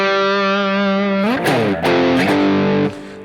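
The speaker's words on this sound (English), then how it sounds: "it seems to excel at overdrive tones" Distorted electric guitar on a Pearson Hyper S headless guitar, bridge humbucker, rings out with a sustained overdriven chord, then bends and sliding notes, gritty and close, with no talking.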